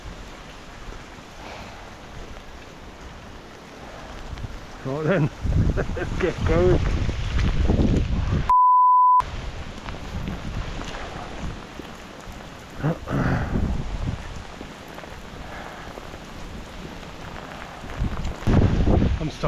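Heavy rain pours down outdoors on a wet walk in the Welsh hills, a steady rushing hiss with wind buffeting the microphone; someone speaks briefly partway through, and there are rustling, handling noises.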